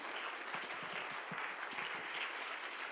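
A church congregation applauds for Jesus, a dense, steady wash of clapping at moderate level that holds evenly throughout, with no talk over it.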